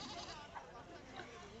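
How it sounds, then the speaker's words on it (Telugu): Goats bleat at a busy village livestock market in Achampet, with a few short calls rising over a steady background of crowd chatter. "ఇక్కడ చూడండి మేకలు."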